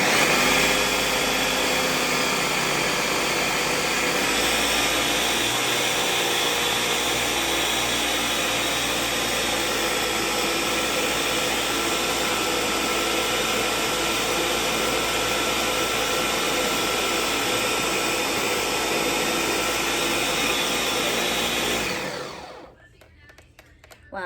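A blender churns heavy cream into butter, its motor straining under the thickening load. The close, loud drone holds steady for about twenty seconds, then cuts off abruptly.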